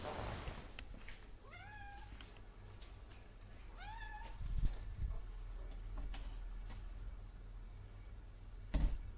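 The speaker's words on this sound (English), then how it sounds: "my poor cat. She wanted to be let out." Pet cat meowing to be let out, two clear rising-falling meows close by, set against a quiet room hum with a few faint ticks and thumps.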